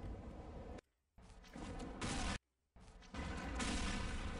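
In Counter-Strike: Condition Zero, a thrown grenade explodes to boost the player upward. Loud, close blasts of game noise are broken by two brief silent gaps.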